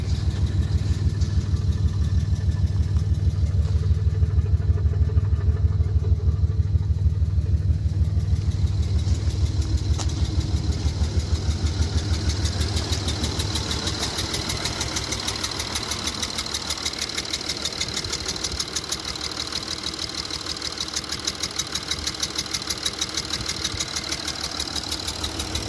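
Engine with a small technical fault running steadily at idle, giving off a fast, even ticking and knocking pulse. The sound is close and continuous, with a low rumble that fades partway through while a brighter hiss comes up.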